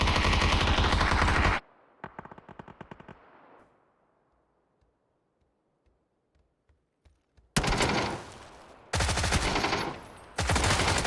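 Automatic weapon fire in a PUBG match, a dense loud burst opening, a short rattling volley, then near silence with faint scattered shots before heavy sustained bursts return close and loud.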